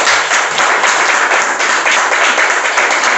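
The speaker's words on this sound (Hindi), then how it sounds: "तालियां कई बार ऐसी होती है कि एक बजा देता है तो दूसरा भी चालू कर देता" A dense, steady burst of audience applause and clapping at a direct-selling training session, loud and continuous throughout with no pauses.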